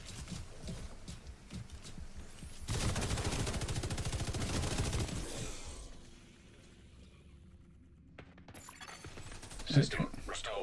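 Video game gunfire in a PvE match: a burst of rapid automatic shots, loud and close, then fading into quieter mechanical clatter and a few scattered impacts.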